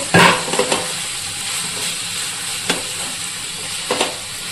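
Chicken chops fry in a pan, giving a steady low sizzle with a few sharp clinks and stirring knocks near the start and again toward the end; no talking.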